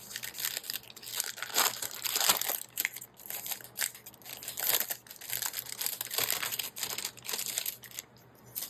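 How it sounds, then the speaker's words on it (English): Leather binder packaging crinkles and crumples up close in steady, soft handling bursts, paper and plastic rustling quietly with no talk. "More packaging ASMR."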